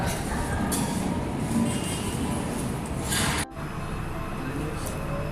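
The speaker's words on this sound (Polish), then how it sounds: "Teraz będziemy wchodzić do metra z bratem." A Warsaw metro train carries its passengers with a steady, loud rumble and hiss, broken by a brief dip partway through before the running noise resumes.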